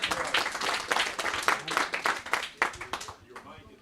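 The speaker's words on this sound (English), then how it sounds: "Give yourselves a round of applause for showing up." A crowd at a yacht club event for Marina del Rey's 50th celebration claps and cheers outdoors, uneven bursts of applause mixed with voices, thinning out near the end.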